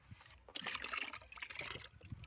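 Water splashes and trickles in uneven pours during a child's bath, close and moderately loud, with brief sloshing bursts and no speech.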